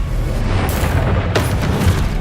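Confringo spell blasts in the video game Hogwarts Legacy, a continuous rumbling roar with two sharp explosive bursts partway through.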